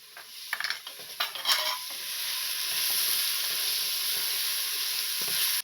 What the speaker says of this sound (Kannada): 10 ನಿಮಿಷ ಫ್ರೈ ಮಾಡ್ಕೊಂತಾ ಇದ್ದೀನಿ ಫ್ರೆಂಡ್ಸ್